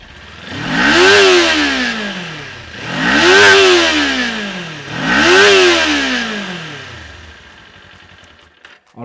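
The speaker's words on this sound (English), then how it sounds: "Don't think I forgot, the exhaust note." A Kawasaki Ninja 400 motorcycle's exhaust revs three times in a row, each rise and fall a high-pitched, screaming burst, loud and close, before settling back to a lower idle.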